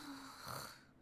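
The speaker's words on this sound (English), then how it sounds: "Cat snoring sounds." Cat snoring in the video game Trails of Cold Steel II, a soft, breathy snore swelling through its middle in a quiet room, heard alone without talk.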